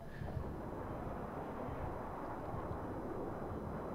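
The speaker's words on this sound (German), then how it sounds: "Da kommt wieder der Jet von oben" A fighter jet roars overhead in a Battlefield 3 multiplayer match on the Alborz Mountains map, a steady loud broadband rumble that fills the whole moment without letup.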